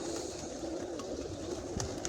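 Soft pigeon cooing sits low under steady outdoor background noise, with a few faint chirps from other birds.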